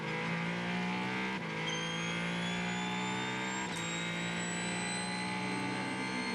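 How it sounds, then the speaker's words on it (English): A Ferrari 499P race car's 3-litre V6 twin-turbo engine drones loudly at a steady high pitch, rising gradually as it rushes past. "Great noise from the little V6 twin turbocharged engine, the 3 litre in the Ferrari 499P"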